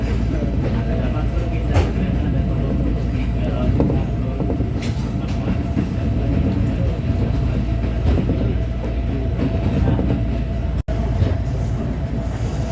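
A train carriage rolls along rails, a continuous loud rumble with faint rhythmic clicks and rattles throughout, and a sudden brief drop near the end.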